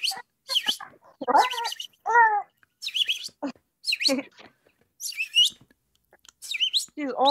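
A person whistles and chirps in imitation of birdsong for a baby, giving a series of short, high, warbling calls in bursts separated by brief pauses, close and clear.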